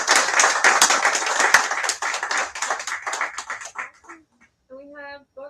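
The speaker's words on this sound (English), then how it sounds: "y'all want a round of applause one more time?" Audience applause at an evening poetry reading, a few seconds of brisk clapping that thins out and stops, followed by a brief voice.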